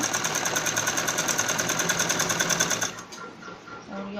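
A sewing machine runs a straight seam on a child's romper with a fast, even, close rhythm for about three seconds before stopping, followed by faint handling sounds.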